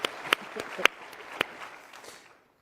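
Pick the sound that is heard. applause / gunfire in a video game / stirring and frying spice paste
applause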